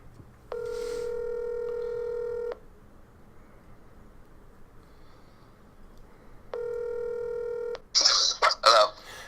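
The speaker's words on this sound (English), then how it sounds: "And I'm going to call him right now." A telephone call is placed, with two long electronic dial-tone bursts separated by a hushed pause, followed by a quick run of bright keypad tones near the end.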